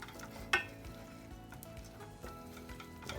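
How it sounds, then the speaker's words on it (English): Cream being stirred into a pan over low heat, a soft continuous scraping swirl with faint sizzle and one brief utensil clink near the start, close and steady with no speech. "I'm going to stir this in quickly, turn it on low heat."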